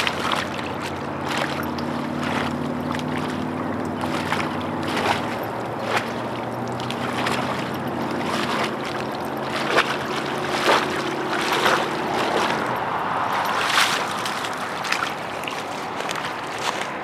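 Water in Lake Conway is stirred up by hand, making sloshing and splashing sounds in uneven bursts over steady outdoor wind and ambient noise.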